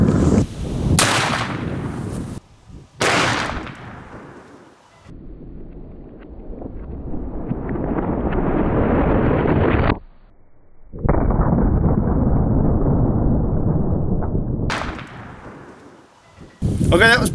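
Gunfire outdoors, from a 10mm or a 44 Magnum shot into ballistic gel blocks, comes as loud sharp reports separated by long stretches of rushing wind noise.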